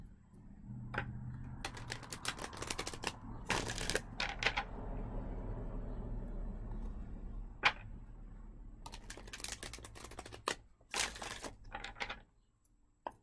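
A Spirit Guide Message Oracle card deck being shuffled at a tarot reading, with repeated bursts of crisp riffling card clatter separated by quieter pauses over a low steady background hum.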